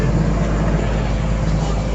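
Car engine idling with an AC idle-up switch engaged, a steady low rumble with constant drone and no change over a short stretch.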